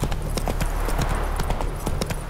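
Horse hooves clip-clop at a steady trot in The Witcher 3 game, close and loud, a continuous rhythmic patter of hoofbeats over a low rumble of ambience.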